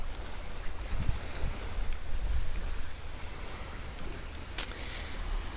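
Strong wind buffets the microphone on a lake during a boat fishing trip, a low rumbling roar with gusty surges and faint water lapping around a small boat, one brief knock near the end.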